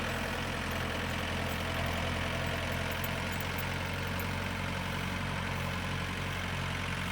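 A tractor engine drones steadily as it drives back around the bottom of a farm driveway in December, a constant, moderately distant low rumble with no talking.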